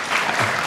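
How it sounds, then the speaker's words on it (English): Brief burst of steady audience applause from a crowd at a political talk, dense clapping throughout. "If you're applauding the question, we're good."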